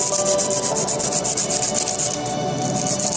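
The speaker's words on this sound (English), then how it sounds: "Otherwise, you will have to sand this wire forever." Sandpaper rubbing back and forth along a wire, made into an improvised fountain pen part, in a steady, close, continuous scratchy rasp with even rhythmic strokes throughout and no voices.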